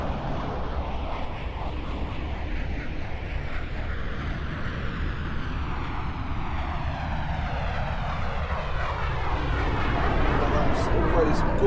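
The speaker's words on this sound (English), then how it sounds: "a pretty astonishing takeoff maneuver there. Immediate roll on takeoff." A Eurofighter Typhoon military jet takes off at an air show with an immediate roll, a broad, loud engine roar that swells and sweeps as it passes and climbs away.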